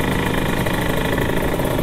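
A Vespa scooter engine runs steadily nearby, a loud, continuous buzzing drone with a fast, even pulse and no breaks or revving.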